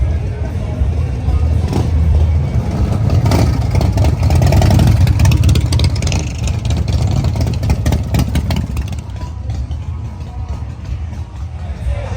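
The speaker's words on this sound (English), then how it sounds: "With seeing that bike running all day." Motorcycle engines run and rev at a Myrtle Beach bike week gathering, a loud continuous low rumble with rising throttle swells, mixed with crowd noise and faint talk in the background.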